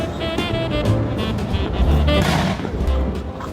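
Loud, dense crackling and booming bursts of New Year's fireworks going off close by, continuous and chaotic with no speech.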